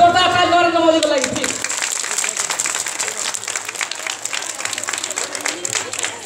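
A live crowd at a comedy show applauds a comedian doing a Narendra Modi impersonation, with loud, sustained clapping that follows a voice speaking over music.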